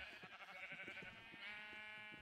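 Minecraft sheep bleating several times in quick succession, fairly faint and close, with no talking over it.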